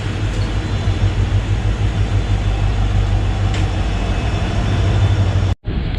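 Diesel-hauled Indian express train passing at a station crossing, a steady loud rumble of engine and wheels heard up close, cutting off abruptly near the end.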